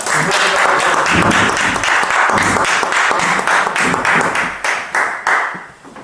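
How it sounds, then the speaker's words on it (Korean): Warm audience applause for a guest speaker at a Korean alumni gathering, loud close clapping with a few distinct claps standing out, thinning and fading toward the end. "다시 한번 뜨거운 박수 부탁드리겠습니다"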